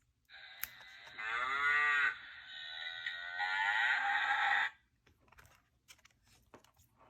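A single cow, Bella, lets out two long, loud lowing moos in close succession, heard alone and near, followed by faint rustling.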